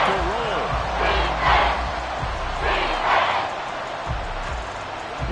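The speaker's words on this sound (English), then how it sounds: "This crowd turning up the decibel level." A football stadium crowd roars through a tense stretch of an NFL game, a dense wall of cheering that swells in waves, with an announcer talking over it.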